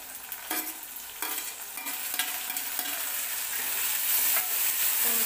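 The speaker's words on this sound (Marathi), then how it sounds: "टोमॅटो व्यवस्थित आपल्याला भाजून घ्यायचं" Tomatoes frying with already-browned onion in a pan for puri bhaji, a steady soft sizzle with intermittent scraping stir strokes, close and growing slightly louder, no talking.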